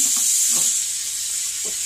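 Hash browns sizzle loudly in melted butter in a hot pan, a steady bright frying hiss with a few soft thuds as pieces drop in.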